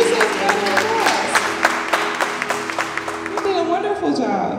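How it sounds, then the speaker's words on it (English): An audience at an unplugged live music show breaks into sustained applause, dense clapping and some cheering that fades near the end, with a voice speaking over it. "Give yourselves a round of applause"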